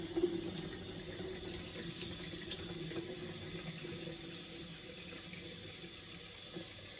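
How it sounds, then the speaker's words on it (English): Tap water runs steadily into a sink while ackee is rinsed, a constant close hiss and splash with faint clatter near the start. "I normally do this a few times until the water runs clear."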